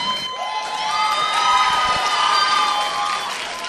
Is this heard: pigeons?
no